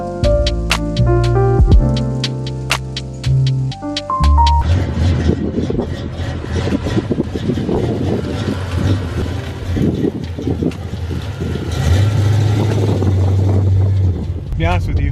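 Loud, steady road and engine roar inside a car while driving, with wind buffeting; people talk over the noise throughout, and some music or chimes are heard at the start.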